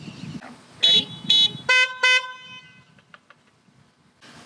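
A high tone full blast horn on a Can-Am Ryker sounds four quick loud toots in two pairs at close range, with faint background rustle before and after.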